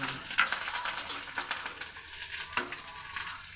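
Cumin seeds and curry leaves sizzle in hot oil for a tempering, a steady close frying hiss with a few sharp crackles and spatters near the start.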